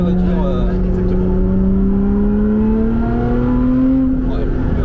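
A Lotus Exige 410 Sport's engine drones steadily from inside the moving car, its pitch climbing slowly under acceleration, loud and close, with brief talk over it.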